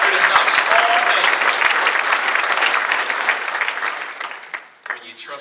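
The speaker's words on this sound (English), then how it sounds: "Come on, clap your hands." A church audience claps hands in loud, dense applause that fades gradually over several seconds, ending in a short spoken remark.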